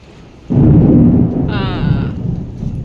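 A deep thunder rumble breaks in during monsoon rain, loud and sustained for a couple of seconds before easing, with a brief higher bleating-like tone riding over it midway.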